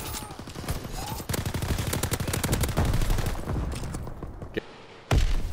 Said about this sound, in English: What gun is this? Oh, is this that the PPSH?